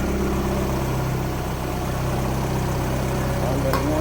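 A Honda Civic with an H2B engine swap idles as it warms up after a coolant bleed, giving a steady, close, low rumble with a constant vibrating drone throughout.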